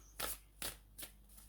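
A deck of keyword cards is shuffled by hand in three quick, separate riffling bursts, close and fairly quiet, with no talking.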